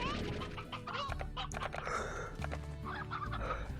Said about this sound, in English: Eat the roosters and leave me alone.